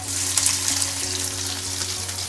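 Sliced onions frying in hot oil with cumin and coriander seeds, a close, steady crackling sizzle with a low hum underneath, with no voices.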